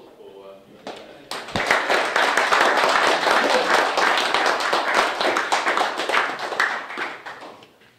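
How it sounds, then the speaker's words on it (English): Audience applause after a talk on early building information modelling, a dense, sustained burst of clapping that swells after a short pause and carries on loudly for several seconds. "Well, another applause for."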